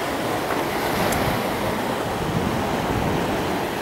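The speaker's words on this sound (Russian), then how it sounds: "Надеюсь, нас тут волной не унесет." Atlantic Ocean waves washing over a rocky shore in Tenerife, Canary Islands, a continuous loud rushing roar of surf with wind noise and no distinct breaks.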